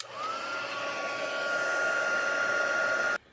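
A heat tool blows hot air to reheat gold embossing powder on a greeting card, a steady loud whooshing hum with a high whine that cuts off sharply.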